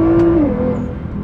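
A Nissan GT-R engine with a new homemade custom exhaust holds a loud, close, steady rev near 3000 rpm, its droning note dipping slightly and rumbling on with no one talking.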